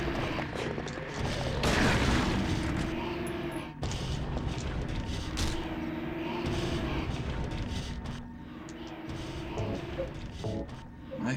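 Gunfire aimed at a monster in Silent Hill 3, several muffled shots and booms over an eerie game soundscape, with a louder burst early and scattered impacts after.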